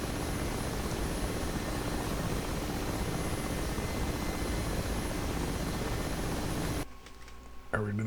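Mi-8 helicopter in the DCS flight simulator, with a loud steady drone of engine and rotor that holds for about seven seconds, then cuts off suddenly near the end.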